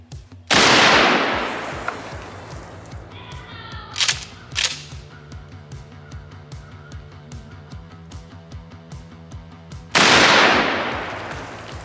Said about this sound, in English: Next up is the 1 ounce 12 gauge slug out of the Mossberg 500.